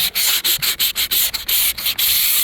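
Sandpaper worked by hand over the hood of a Humvee H1, with loud, close, rhythmic rasping strokes in quick succession, each scrape separated by a brief pause.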